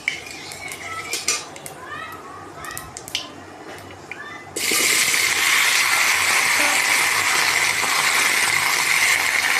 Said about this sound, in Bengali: পাঁচফোড়ন একটু নেড়ে চেড়ে একটু গন্ধ বেরোলে আমি কাঁঠালগুলি ছেড়ে দেব